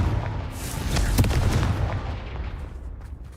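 A Confringo blasting spell in Hogwarts Legacy lets out a deep, rumbling explosive boom that swells and then slowly fades.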